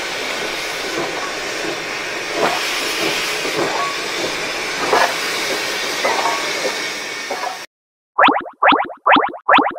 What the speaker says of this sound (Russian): Это высокоскоростной поезд.